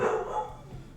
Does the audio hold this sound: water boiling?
no